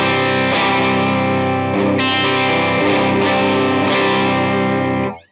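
A distorted electric guitar played through Line 6 Helix 3.5 cabinet simulation, with thick sustained chords ringing loud and steady for about five seconds before cutting off abruptly. No voices.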